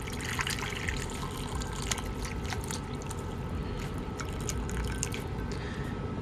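Homemade chicken soup pours in a steady liquid trickle with light splashes and drips, quiet and close, inside a semi truck cab under a constant low engine or cab hum.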